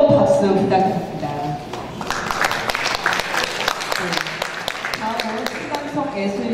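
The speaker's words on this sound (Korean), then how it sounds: "네 분 남성가님께 모두 뜨거운 박수 부탁드립니다." An indoor audience at a poetry recital celebration claps warmly for four male singers, a dense steady applause that swells and then continues under a host speaking.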